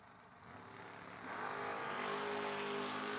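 A Mustang and a Camaro launch off the line at a drag race, engine noise swelling from a moderate idle into a loud, sustained roar that builds over about a second and holds.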